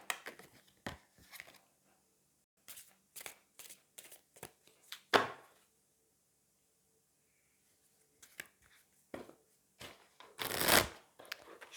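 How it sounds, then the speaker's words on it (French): A tarot card deck being shuffled by hand, heard as several short bursts of riffling and card slaps separated by pauses, close and fairly quiet, with no talking. "Je le mélange bien parce qu'il y a longtemps que je ne l'ai pas utilisé."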